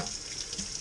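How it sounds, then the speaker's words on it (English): Water running from a tap to rinse out a home-brew keg beer line tube, a brief steady close splashing rush with no voices. "Give it a rinse here."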